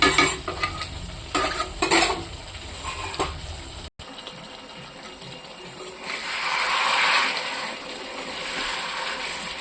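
A spoon stirs rohu fish curry in a pan, scraping and clinking in uneven strokes over a steady sizzle, with a short break midway before a softer, hissing simmer takes over.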